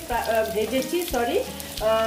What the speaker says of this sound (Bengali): দেখো, আলুগুলো আমাকে ভালো মতন ভাজতে হবে।